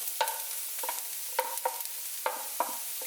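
Leftover chicken meat, dry, added on top of fried rice in a hot pan, with a faint sizzle and a series of sharp scraping stir strokes spaced irregularly, close up with no voices.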